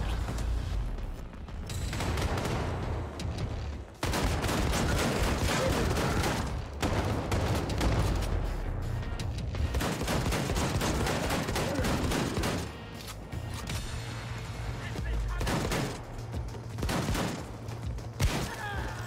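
Shotgun blasts and heavy gunfire in the shooter game Wolfenstein II: The Freedom Chronicles, loud and dense, with bursts of repeated shots and booms continuing throughout without pause.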